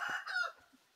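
Chickens at a rural bamboo house give a couple of short, faint clucks close by, then quiet.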